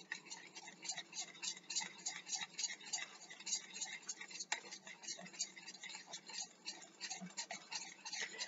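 A whisk clicks and taps rapidly inside a measuring cup of cream, a thin, tinny rhythmic ticking that runs steadily throughout, quiet and close.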